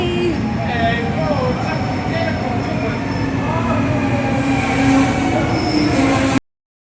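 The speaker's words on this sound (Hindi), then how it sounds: "और ये आ रही है हमारी ट्रेन।" A train pulls into a station on a journey to Amsterdam Central, with steady rolling rumble, rattling carriages and high wheel squeals rising and falling throughout, loud and close, with voices murmuring faintly under it.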